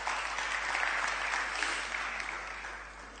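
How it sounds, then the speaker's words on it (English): A seated audience at a lecture gives a round of applause, a dense, even burst of clapping that stays loud and steady for about three seconds before easing slightly. "So another round of applause for whatever he's done."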